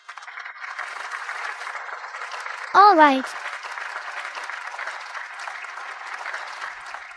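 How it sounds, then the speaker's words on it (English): Audience applause at a competition, a steady wash of clapping filling the whole stretch, with a brief louder burst of voices near the middle and a short spoken remark. "Applause."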